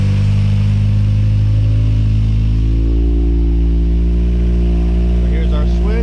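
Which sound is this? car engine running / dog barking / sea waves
car engine running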